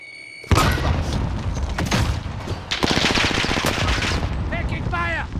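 A video game battle at Caldera fills with dense, loud gunfire: rapid automatic bursts and booming shots overlap continuously, with heavy thumps throughout.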